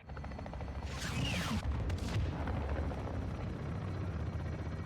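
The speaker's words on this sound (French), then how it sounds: "Marque la porte pour l'hélico, Soap." A helicopter strike in Call of Duty MW2 gives a steady rotor and engine drone with a burst of rapid gunfire and sweeping whooshes partway through, moderately loud and without speech.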